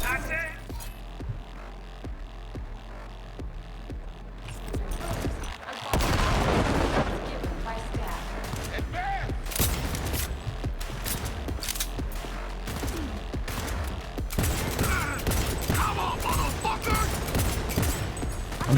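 Gunfire in Cyberpunk 2077 punching through objects, with repeated loud shots and booming impacts in irregular bursts over busy game noise, plus brief voices.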